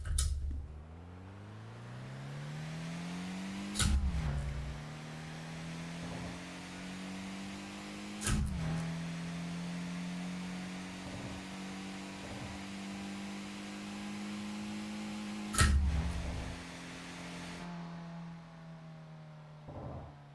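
A car engine from Mario 64 soundfont racing-game driving, a steady droning hum that rises in pitch and settles, broken by a few sharp clicks or thumps, moderately quiet throughout.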